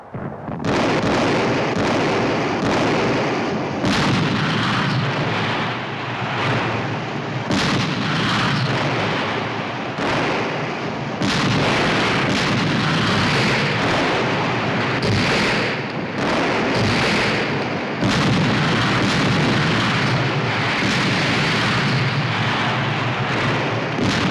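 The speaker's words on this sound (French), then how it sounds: "Chaque pâté de maison transformé en fortin doit être écrasé par l'artillerie russe." Russian artillery bombarding fortified city blocks in Germany in 1944: a dense, continuous barrage of booming blasts and rumbling explosions that runs loud and unbroken for the whole stretch, with no voices.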